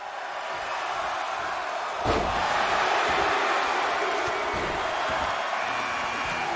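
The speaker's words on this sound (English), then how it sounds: "People are booing him outside the ring." A wrestling crowd booing a wrestler outside the ring, a broad sustained roar of many voices that swells after a sharp thud and holds loud to the end.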